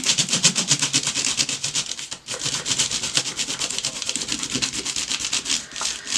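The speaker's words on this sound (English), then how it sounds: "I'm going to rub on top of my texture plate" Steady, dry rubbing strokes over a texture plate, a loud close scratchy swishing repeated in quick even rhythm with one brief pause partway through.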